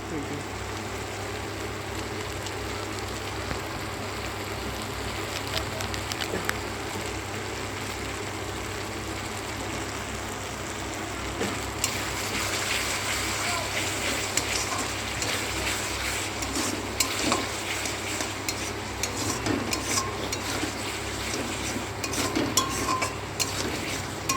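Masala with Kashmiri chili powder stirred and sizzling in a pan for shrimp, a steady low frying hiss with scattered scraping clinks from the spoon and a constant background hum, gaining texture partway through.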